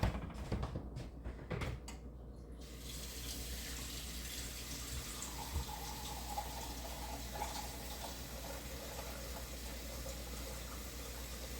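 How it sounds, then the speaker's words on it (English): Water is poured into a pot of potato soup in a kitchen, a steady close rushing splash, with a few clunks at the start. "All right, here's some more water."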